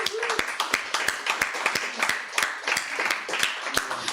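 An audience claps at a literary reading by Los Angeles authors, a moderate-sized group of distinct sharp hand claps in fairly even rhythm across the whole stretch, close and clear.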